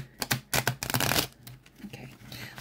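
Tarot cards from a limited-edition deck, somewhat stiff, being shuffled: a run of quick crisp riffling clicks and flutters up close, fading into softer shuffling toward the end.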